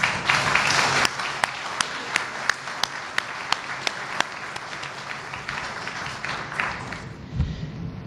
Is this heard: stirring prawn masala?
no